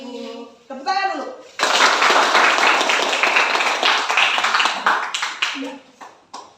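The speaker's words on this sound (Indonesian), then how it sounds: "Tepuk tangan dulu." Children and adults clap their hands together in a classroom lesson after a prayer, a burst of dense, loud clapping that fades out, with voices speaking briefly before and after.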